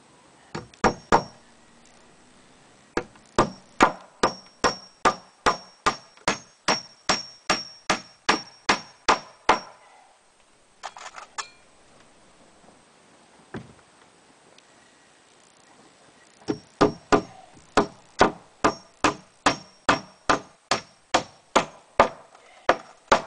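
Hammer blows driving through tough pallet wood, a rapid run of sharp, loud, evenly spaced strikes, a pause with faint clatter, then another fast burst of hits.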